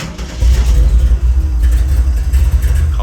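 A 1970 Chevrolet Chevelle SS V8, found in rural Tennessee, idles loudly and close with a deep, lumpy low rumble, swelling in short revs over a few seconds.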